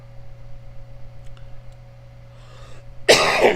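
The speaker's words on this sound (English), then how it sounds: "so I've got a bit of a cough there" A single loud cough breaks out near the end after a quiet stretch of faint room hum.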